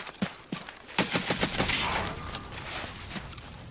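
Rapid bursts of automatic gunfire in the video game Escape from Tarkov crackle loudly and close, overlapping in quick volleys with short echoing tails.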